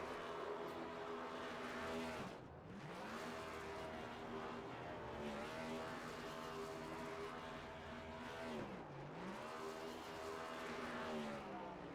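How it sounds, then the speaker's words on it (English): Race cars in a racing video game at Pocono Raceway roar through victory burnouts. A sustained engine drone rises and falls in pitch with two dips as the revs swing, heard steadily and without talk. "time for victory burnouts"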